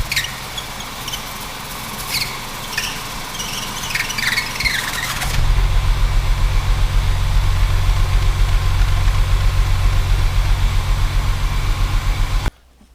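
Mercedes 220S with no exhaust fitted: a squealing starter cranks while people talk in the background, then the engine catches and runs at a loud, even, raw idle for about seven seconds before cutting off.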